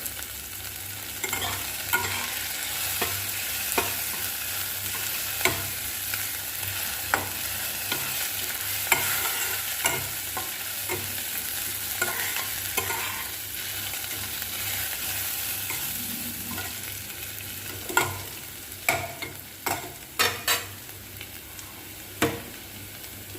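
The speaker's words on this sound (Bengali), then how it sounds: "রসুনটা একটু ভাজা ভাজা হোক" Garlic frying in a pan for a banana-stem dish gives a steady close sizzle, broken by the clicks and scrapes of stirring, which come faster and louder toward the end.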